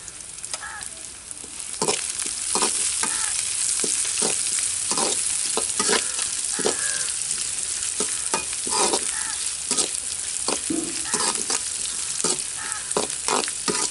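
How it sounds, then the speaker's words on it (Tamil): Onions sautéing in a pan for mutton kudal kulambu give a steady loud sizzle and fry, broken repeatedly by scraping strokes of a stirring spoon, close up with no talk. "வெங்காயம் நல்லா வதங்கிடுச்சு."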